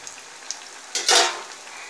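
Beetroot cutlets frying in a pan give a soft, steady sizzle with a few light utensil taps, then a brief louder burst of hissing as they are turned.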